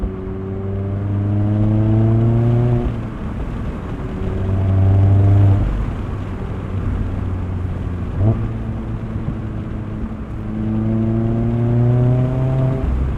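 Modified 2019 Mazda MX-5 Miata 30th Anniversary with a lightweight RoadsterSport race exhaust, heard from inside while driving: loud engine notes rising through the revs in repeated pulls, with brief lifts and shifts between them.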